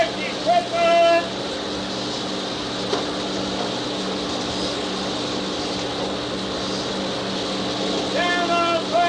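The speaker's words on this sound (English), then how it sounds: "the jump master will bark his commands over the roar of the plane" Steady, loud roar of a troop-carrying plane during a paratrooper static-line jump, droning continuously for the whole stretch, with brief shouted voices near the start and again at the end.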